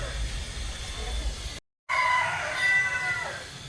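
A rooster crows among other chickens at a bird farm with pheasants in Laguna, a nearby call rising over background noise after a brief gap of silence.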